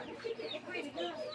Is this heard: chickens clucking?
yes